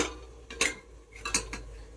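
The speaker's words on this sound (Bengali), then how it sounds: "ঢাকাটা দেবো," A lid set onto a cooking pan of bitter greens with fish head, giving two short metallic clinks about a second apart, close and fairly quiet against low kitchen hum.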